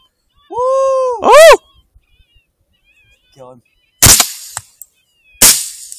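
Two loud, sharp rifle shots ring out during a night coyote hunt in Iowa, spaced over a second apart with brief decaying tails, preceded by a howling yelp and a short call in quiet surroundings.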